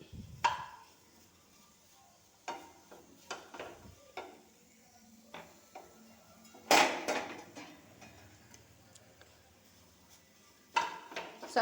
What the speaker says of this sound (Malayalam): ഇനി ഒരു പാൻ അടുപ്പത്തേക്ക് വെച്ച് ഇതൊന്ന് മിക്സ് ചെയ്തെടുക്കണം.